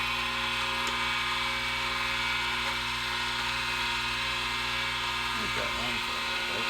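A steady, high-pitched tile cutter motor whine, after a bearing replacement, runs continuously at close range with no pauses, joined briefly near the end by a short burst of mechanical clatter.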